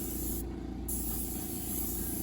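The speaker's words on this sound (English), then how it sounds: "I fire up my compressor, and I will go in my booth and just blow out" Compressed air from a compressor-fed blow gun hisses steadily inside a hobby spray booth, a continuous close rushing blast under a low hum from the compressor, with no talking.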